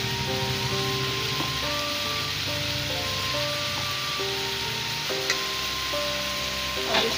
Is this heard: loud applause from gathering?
no